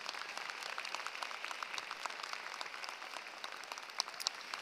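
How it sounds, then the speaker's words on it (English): Graduation ceremony crowd applauding an honoree, a broad, distant wash of many hands clapping steadily without talk, fairly faint throughout. "would you please join me in giving Mr. Marcelo Casillas a round of applause"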